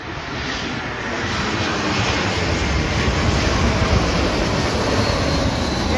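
Airbus A320 passing low overhead on final approach to runway 10 at San Juan airport; a loud, sustained broadband engine roar that swells and holds close overhead for several seconds.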